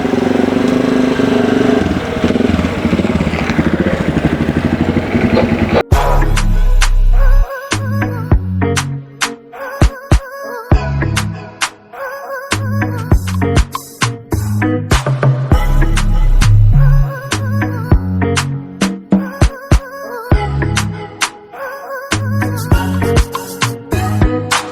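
A moto taxi motorcycle near Carrefour gives off a buzzing, close engine drone that then turns choppy, with abrupt surges and cut-offs as it revs and moves.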